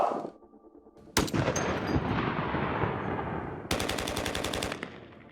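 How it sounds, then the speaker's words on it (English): Overwatch 2 gunfire with long reverberant tails, a sharp shot followed by a dense rumbling wash, then a rapid rattling burst of automatic fire that decays into a fading echo. "So we went and captured tales of guns in different environments through our weapon shoots."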